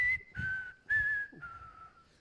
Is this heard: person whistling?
yes